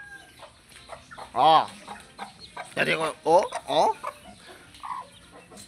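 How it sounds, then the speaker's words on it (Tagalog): Chickens cluck and squawk in short bursts close by, with people chatting quietly in between. "Manok lagi."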